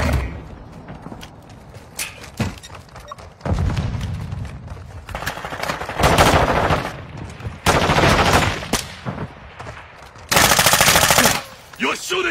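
Rapid automatic gunfire from Call of Duty: Modern Warfare II, loud bursts of machine-gun fire with heavy thumps, several sustained volleys separated by short gaps.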